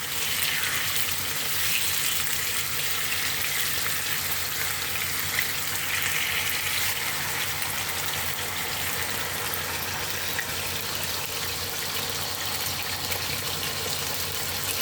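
Pork loin steaks cooking in a pan, a steady, even hiss of sizzling that holds at a constant level throughout with no pauses or talk.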